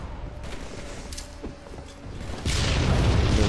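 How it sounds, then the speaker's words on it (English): Grenade explosion in an online shooter match: a few faint thuds early on, then a loud broadband blast near the end that holds steady to the close, with no talking. "A nice little grenade kill."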